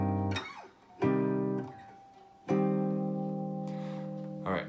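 Three strummed minor triad chords on guitar ring out one after another, each sustained and decaying, played close and clear with no talking.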